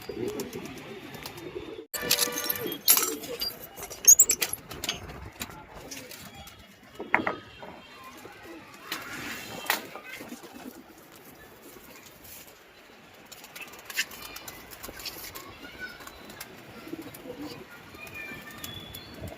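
Pigeons coo and flutter nearby amid scattered chirps and a few sharp clattering knocks, with a busy, continuous flock murmur throughout.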